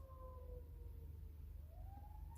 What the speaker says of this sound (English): I hear the ambulance, the sirens.